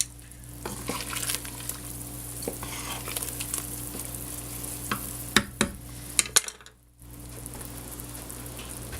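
Cut mushrooms cook in a pot of fish ramen soup, giving a steady sizzling bubble with a few sharp utensil clicks against the pot, then a brief dip before the simmer resumes.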